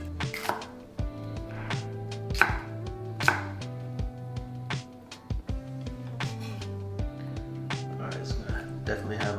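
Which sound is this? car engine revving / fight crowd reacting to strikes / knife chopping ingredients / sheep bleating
knife chopping ingredients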